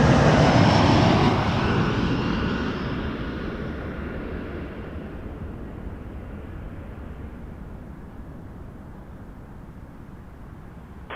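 An Air Canada Rouge Airbus A321 at Toronto Pearson Airport thunders close overhead with a loud, broad jet roar that peaks at the start and then slowly fades as it passes into the distance, with no talk.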